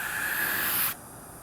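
Spray gun hissing green paint onto a Jeep JK flexible fender, one steady close burst lasting about a second before cutting off sharply.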